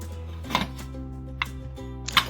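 A spoon stirs ghee through mutton biryani made with seeraga samba rice in a pressure cooker, giving three sharp metallic scrapes and knocks over a steady low hum, close and fairly quiet.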